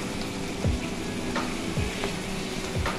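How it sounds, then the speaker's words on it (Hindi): Yogurt sizzling and frying in oil in a pan for chicken karahi, a steady crackling hiss with a few soft stirring scrapes, close and continuous, no talk. "दही की करेंगे भुनाई।"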